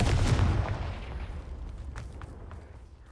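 Confringo blasting spell exploding in Hogwarts Legacy: a heavy, close boom at the very start that rumbles away over a few seconds, followed by a few faint cracks as the blast settles.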